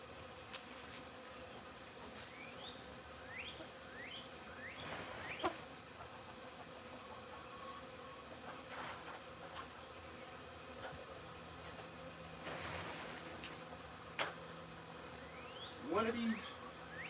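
Bees buzz around the corner of a house outdoors in a faint, steady hum, with a few brief louder passes as individual insects fly close.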